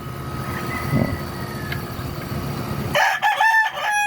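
A pure Jogwood gamefowl rooster crows once, a loud close call ending about three seconds in, over a steady outdoor background hum in the heat.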